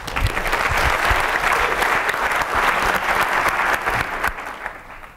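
Audience applause welcoming a speaker onto the stage at an Ignite Wellington talk event, a sustained, dense wash of clapping from a crowd that holds steady for several seconds before tapering slightly.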